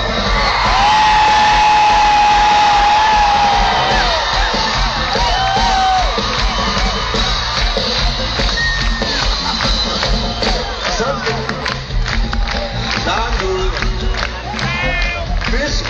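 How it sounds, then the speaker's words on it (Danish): A concert crowd at the Smukfest festival in Skanderborg applauding and cheering loudly, a dense roar of claps, whoops and shouts that keeps up throughout. "Jeg sagde et bifald fra publikum!"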